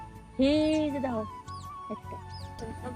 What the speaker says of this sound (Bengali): এই যে ডাউক পাখি ওর শব্দ শুনে কিন্তু কাছে চলে আসতেছে